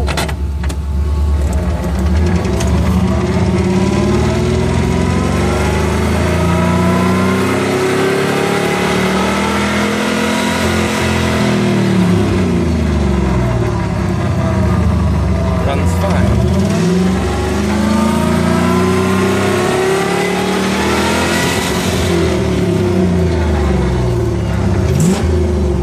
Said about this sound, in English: Wide open throttle, it bogs and pops and won't go over that RPM.